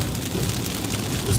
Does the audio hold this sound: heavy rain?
yes